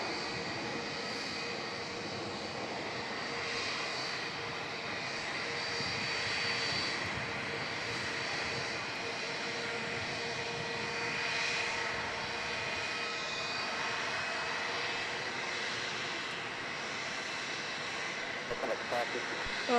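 Jetstar jet aircraft engines at Melbourne Airport produce a steady, broad roar that holds for the whole stretch with slight swells, carrying a faint high whine.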